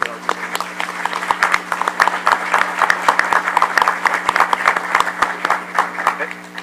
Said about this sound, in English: I'd like a round of applause for what Yolanda does.